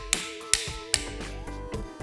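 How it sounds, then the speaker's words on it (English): Metal tip of a screwdriver knocking a wheel bearing out of a dirt bike hub, three sharp, close taps evenly spaced about half a second apart, followed by faint scraping and clinking of the part. "just give it a slight knock,"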